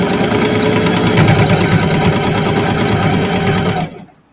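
A sewing machine runs steadily while stitching a reverse appliqué quilt block of fabric scraps and denim, a dense mechanical hum and rapid needle chatter that stops abruptly near the end.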